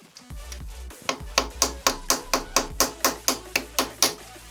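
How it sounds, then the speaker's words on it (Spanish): A hammer strikes a socket wrench fitted on a Kawasaki ZR-750 Zephyr motorcycle's alternator bolt, about fourteen sharp metallic blows in a quick, fairly even rhythm, loud and close, with no talking. "Ponemos la llave tubo en el tornillo y le damos unos golpes"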